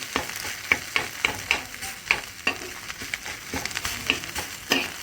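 Leftover chicken from the night before is reheated in a pan: a soft sizzle runs under regular scraping strokes of a spoon stirring, about two per second, close and fairly quiet.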